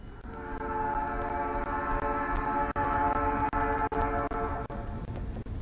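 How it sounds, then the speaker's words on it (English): In the video game Night in the Woods, a train passes with a loud, sustained, chord-like horn blast over rumbling wheels, with faint rhythmic clacks near the end. "Oh, the train!"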